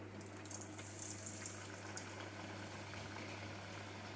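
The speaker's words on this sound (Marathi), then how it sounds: "आता एक एक पुरी टाकून तळून घेऊया" Puris fry one at a time in hot oil in a kadhai for a Dussehra sweet rava-and-jaggery shira puri meal: a steady, faint hiss of bubbling oil with a low background hum, no voices.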